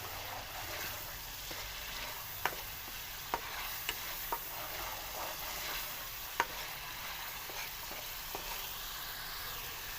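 Onions frying with ginger garlic paste in a pan for aloo gosht, a steady soft sizzle throughout with occasional sharp clicks of a spoon stirring against the pan, fairly quiet and close, no voices.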